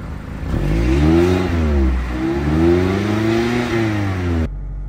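A 2017 Mazda MX-5 Miata engine, push-button started, revs up and down in two strong swells, loud and close, then cuts off abruptly near the end.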